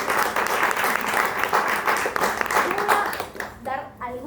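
An audience at a book talk in a bookshop claps for a guest being introduced; brisk, fairly loud applause that thins out near the end as a voice begins speaking.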